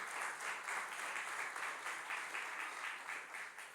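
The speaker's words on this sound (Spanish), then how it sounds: "denle un fuerte aplauso al Señor." Congregation applauding in church during a Spanish-language worship service, steady broadband clapping throughout with a slight swell and fall, fairly distant and no speech over it.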